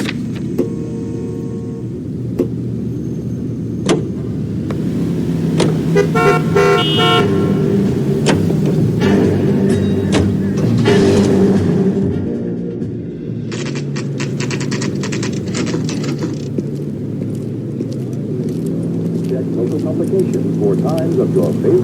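Car driving in L.A. Noire: a steady engine rumble runs under the whole stretch, with horn-like toots and clicks scattered through it and game voices talking over it at times.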